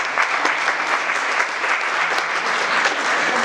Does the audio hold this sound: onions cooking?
no